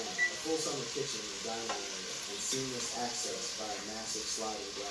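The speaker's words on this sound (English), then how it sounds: "we're gonna just let our potatoes and stuff cook for a little bit" Potatoes fry in a pan with spicy plant-based Italian sausage, a soft continuous sizzle with occasional stirring beneath a person talking.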